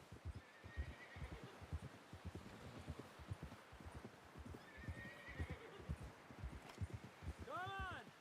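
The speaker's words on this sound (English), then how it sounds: "Someone help John down off this horse" Horse hooves clip-clop steadily over rough ground in a Red Dead Redemption 2 riding scene, with a short whinny near the end while people talk over the hoofbeats.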